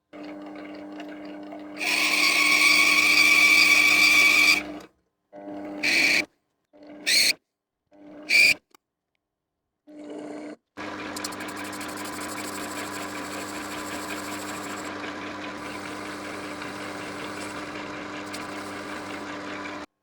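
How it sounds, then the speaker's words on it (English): A mini lathe cuts a thread with an insert threading tool, making a steady mechanical hum and whine of the spindle. The cutting pass stops and starts in short bursts before a long continuous run, close and fairly loud with no talk. "This little project would be my first time using an insert threading tool, so I took it nice and steady."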